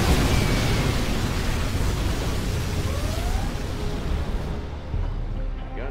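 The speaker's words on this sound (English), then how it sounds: "Particle cannon activated." A heavy, sustained roaring blast fills the scene as a USA particle cannon fires in the Generals Zero Hour skirmish on the Sand Serpent map, loud and dense throughout, with faint game voice lines underneath.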